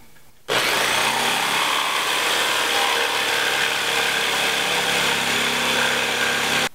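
A power saw cuts a small triangle out of a wooden logo piece, starting abruptly and running as a loud, continuous rasping buzz for about six seconds before stopping.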